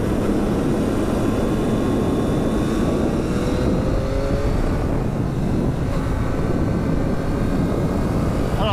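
Yamaha MT-09 motorcycle on a test ride, its engine a loud, steady, throaty roar under heavy wind rush, with pitch rising and falling as it accelerates, close and constant throughout, with no talking.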